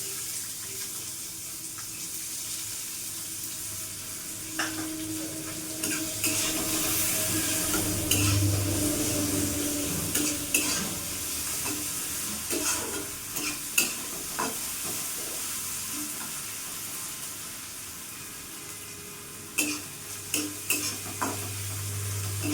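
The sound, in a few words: chopped onion frying and being stirred in a pan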